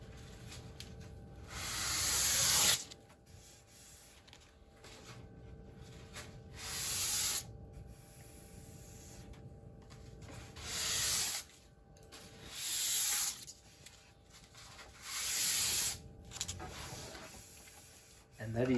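Soft scratchy rubbing strokes of light hand sanding with sandpaper on a wooden rail repeat in short bursts every couple of seconds, fairly close, with quiet gaps between.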